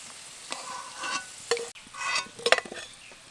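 Potato pieces fry in hot oil for chicken biryani, a soft sizzle broken by several brief scraping stirs and clatters.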